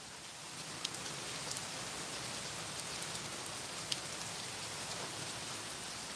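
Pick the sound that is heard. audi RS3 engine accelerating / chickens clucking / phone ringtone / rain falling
rain falling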